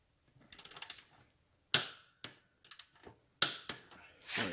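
A torque wrench clicks and ratchets while tightening a bolt on a 1975 Norton Commando Mk3 motorcycle frame: a quick run of light ratcheting ticks, then several sharp, separated metallic clicks, close and fairly quiet in a still room.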